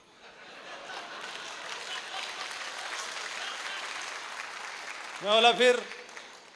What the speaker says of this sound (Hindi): इस वाली बात पे ताली ज्यादा बजी